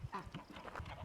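Ducks dabbling in a small thawed patch of a frozen homestead farm pond give soft, faint quacks and honking calls, a brief quiet cluster of low nasal notes.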